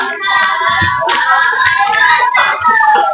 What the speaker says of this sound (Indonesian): Tepuk tangan dulu nih untuk kelompok 1.